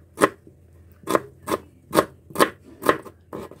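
A large onion sliced thinly with a knife on a cutting board, seven crisp, evenly spaced chops ringing out close and clear with no talking.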